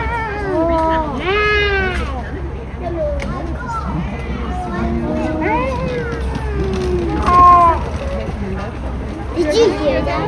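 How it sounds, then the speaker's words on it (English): Wild cat meowing repeatedly with intense, rising and falling calls, heard close among other animal cries at San Francisco Zoo over a low steady mechanical hum. "hear how they meow, just like a house cat, but a little bit more intense."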